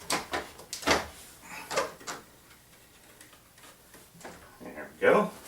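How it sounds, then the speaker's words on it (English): Thuds, clicks and wooden knocks sound as a Rodgers 725b organ console is folded open for keyboard repair. The bumps come close and irregularly, with a louder clunk at the end, and someone speaks between them. "On most really well-designed consoles, you can just do literally that,"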